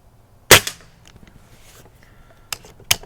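A Diana Bandit Black air pistol fires one sharp, close crack, followed after a pause by two quieter snapping clicks in quick succession against a quiet background.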